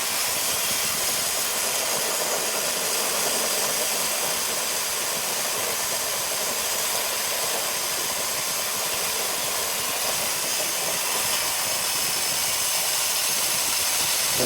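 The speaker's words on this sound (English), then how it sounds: "I think that's through the bandsaw." A bandsaw cuts a notch into a Baja's exhaust pipe, producing a loud, steady, unbroken roar of grinding noise with no pauses and no voices for the whole stretch.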